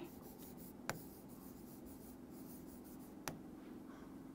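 A pen writes on paper during a notice-writing lesson, making a faint continuous scratching with a couple of sharp taps, close by, with no speech.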